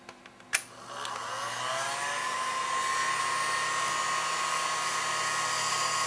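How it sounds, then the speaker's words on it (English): A heat gun on its low setting, used to melt encaustic wax, starts with a click and then holds a steady, close, airy whir with a faint tonal hum throughout. "So I've got my heat gun here, and I just put it on low."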